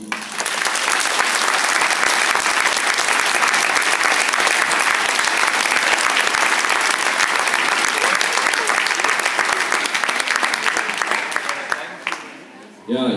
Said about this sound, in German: haben wir alle mal Applaus verdient.